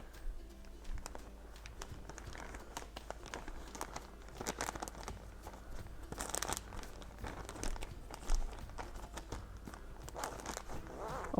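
Crinkly rustling and crumpling of a plastic Ziploc bag as folded seed paper is tucked inside, a steady close-up stream of small crackles and rustles with a few louder crunches.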